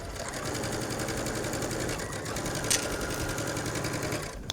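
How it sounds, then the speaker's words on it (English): A sewing machine stitches around the neckline of a Bella Top in contrasting thread at a 2.5 stitch length. The needle hum stays steady and close, running alone almost to the end. "And you're going to stitch all the way around the neckline."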